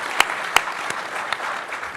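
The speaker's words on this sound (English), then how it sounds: "Give those ladies a big round of applause." Applause at a Washington press event honouring the Gallery Place Chinatown co-chairs: a dense, even wash of many hands clapping, with a few sharper claps standing out near the start, alone with no talking.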